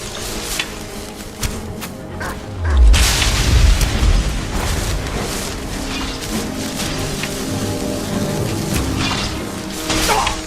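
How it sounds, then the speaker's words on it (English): Enemy salvos exploding in Skyrim, a heavy low boom with rumbling crash followed by scattered impacts and battle noise over several seconds, with someone talking faintly at times. "Yeah, here come their salvos."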